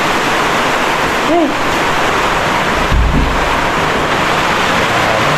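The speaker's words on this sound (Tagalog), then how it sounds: "Kakatakot yung tunog ng hangin." Loud, constant roaring typhoon wind rushing without pause, a dense whooshing storm noise that fills everything.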